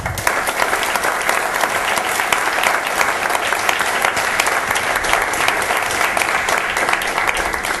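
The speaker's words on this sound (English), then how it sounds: "So please give a big round of applause." A crowd at a Toastmasters evaluation contest claps continuously, dense and steady throughout, with no break in the sound.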